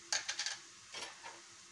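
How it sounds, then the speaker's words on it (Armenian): Onions frying in a pan, with a few quick scraping stirs and clinks of a utensil at the start, then a faint, steady sizzle. "Հիմա այստեղ արդեն լավ հասցրեց տապակվի սոխան"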